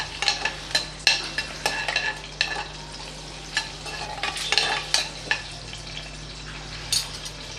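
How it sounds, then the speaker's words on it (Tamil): Whole spices, cinnamon, cloves, cardamom and stone flower, frying in hot oil for coconut milk rice, a crackling sizzle with repeated sharp stirring clinks and scrapes, close, without talking. "இப்போ இது எல்லாத்தையும் சேர்த்துக்கலாம். கொஞ்சம் பொரிய விட்டுறலாம்."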